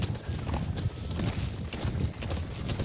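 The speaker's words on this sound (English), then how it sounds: "Go, horsey, go." A horse gallops in Metal Gear Solid V: The Phantom Pain, its hooves beating in a quick, steady rhythm of close, thudding clip-clops against a rumbling backdrop.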